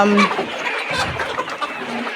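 About twelve-week-old layer chickens on a poultry farm cluck and call close by in quick, overlapping bursts, with one brief higher squawk near the start.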